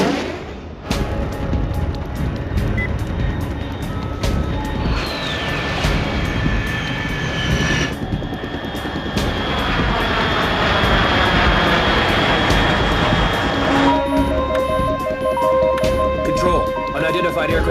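An aircraft roars loudly and continuously overhead in the Metal Gear Solid 3 video game, with whining engine tones and rumble sweeping past, while a voice speaks over the noise.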